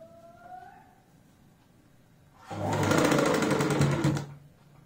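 A sewing machine stitches pintucks into fabric for palazzo pants, running in one loud, steady mechanical burst of rapid clatter lasting under two seconds after a quieter stretch.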